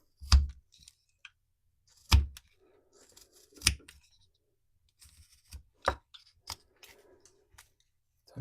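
A knife whittles a small wooden dinosaur, making repeated stop cuts heard as sharp, close clicks and scrapes in irregular bursts against near silence.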